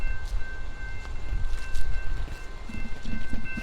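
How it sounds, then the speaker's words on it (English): A train rolling along the tracks in Detroit, a sustained rumble with a steady tonal whine and faint clanking as the cars pass close by. "Oh, here's the train."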